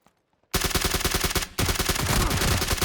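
Automatic weapon fire in the battle game PUBG, played on Xbox One X: after a short silence, loud rapid bursts of gunshots ring out close by, pause briefly, then resume in dense continuous volleys.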